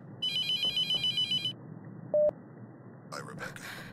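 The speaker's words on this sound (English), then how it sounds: "Ah, phone's ringing." A telephone rings inside the mortuary in the horror video game The Mortuary Assistant, giving a series of bright electronic trills over a low room hum. A short tone follows, and a voice speaks near the end.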